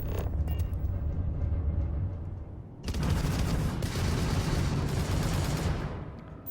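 Spaceship weapons in Starfield fire in a dense, continuous barrage of rapid blasts after a brief lull, loud and sustained across most of the stretch.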